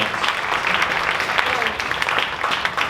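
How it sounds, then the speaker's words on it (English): Audience applause at a high school winter classical concert, a dense continuous clapping crowd heard close and full, with some voices mingled in. "So let's give all those people a big round of applause."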